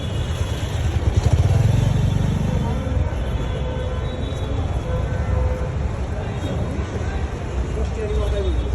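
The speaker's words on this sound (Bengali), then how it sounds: "তিনটা রাস্তায় মোটরসাইকেল।" Motorcycles and other traffic idling and revving in a dense jam on the Abdullahpur–DEPZ road, with a steady low engine rumble and a brief louder engine surge near the start, under a speaking voice.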